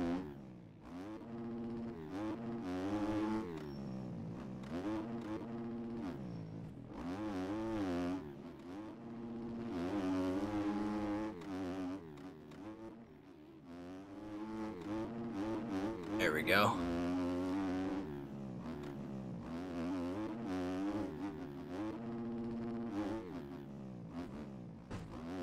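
Motocross bike engines from the MX Bikes video game on PC, revving and shifting in rising and falling whines, continuous and fairly loud with a sharp high screech midway.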